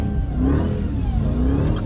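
A 707 hp Dodge Charger Hellcat engine revving hard while drifting in deep snow, a loud, close, sustained roar with rising and falling pitch and no talk.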